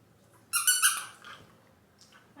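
A squeaky dog toy gives a loud, sharp burst of squeaks for about half a second, then a fainter squeak follows in a quiet indoor room.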